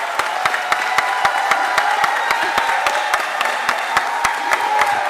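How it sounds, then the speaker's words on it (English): An audience claps for Melissa Scott at a Philadelphia event with Mayor Cherelle Parker, a dense, steady round of applause at moderate distance, with no voices on top. "Please give Melissa Scott a round of applause."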